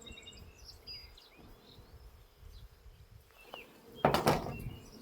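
Honey bees buzzing around an open hive during an inspection, a faint steady hum with individual bees droning past, then a louder close buzz near the end.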